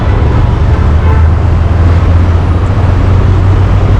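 Traffic crawls through the Vashi toll plaza as heard from a moving scooter, with a dense, close hum of engines and road noise and a hint of a horn in the mix.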